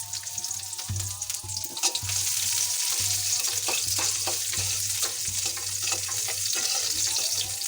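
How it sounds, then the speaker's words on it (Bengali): Onions and green chillies sizzle steadily in a very hot pot, a continuous close frying hiss with occasional stirring scrapes throughout. "পেঁয়াজটা একটু ভাজা ভাজা হোক"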